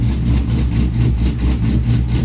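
A 6.0L-swapped Chevy Silverado with a MagnaFlow exhaust idles steadily up close, a deep, even low rumble with a soft rhythmic pulse and no voices.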